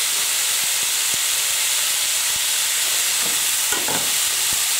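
Spiced lamb or chicken frying in oil in a pan, with a steady loud sizzle and hiss running throughout, a few sharp scrapes and clicks of stirring, and a brief burst of spatter near the end.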